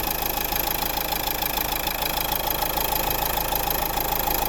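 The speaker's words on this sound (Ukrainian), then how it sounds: "Тут робота двигуна." A steady, rumbling 1.5 dCi 110 hp diesel engine of a 2011 Dacia Duster idles close by, a constant drone with a faint rhythmic clatter and no voices.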